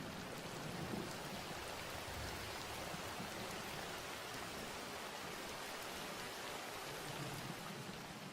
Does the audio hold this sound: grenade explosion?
no